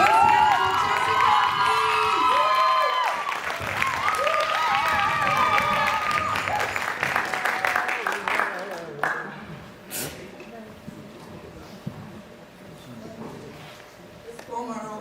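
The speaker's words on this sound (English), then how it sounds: "Put your hands together for Jessica" A crowd cheers, whoops and applauds loudly for Jessica, with children's shouts in the mix. The noise thins after several seconds into scattered claps and a sharp isolated clap, with voices talking.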